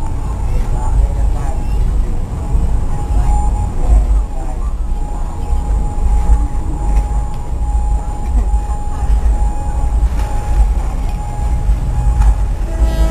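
A diesel railcar rumbles past nearby through a market in Thailand with a constant low roar and rattling, a faint tonal hum riding on top throughout.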